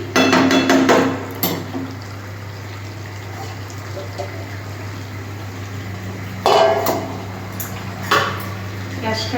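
Metal pot lifted off a stove after cooking a curry, with clattering clanks and scrapes of cookware in a short burst at the start and again later, over a steady low kitchen hum.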